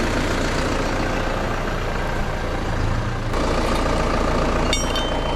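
A tractor engine running on a goat farm, a steady low diesel rumble close by that holds evenly throughout with no voices.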